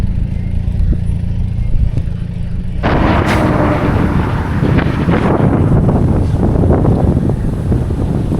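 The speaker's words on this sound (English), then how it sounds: "Quite windy." Strong wind buffets the microphone while cycling on a road climb in Ecuador, a steady low rumble that jumps sharply louder partway through and stays heavy and gusty to the end, with no voices.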